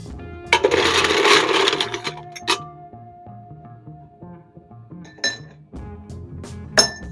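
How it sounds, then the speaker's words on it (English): Ice cubes dropping into a highball glass with a burst of rattling clinks, then several sharper single clinks of ice settling against the glass. "you are going to fill your highball glass with ice"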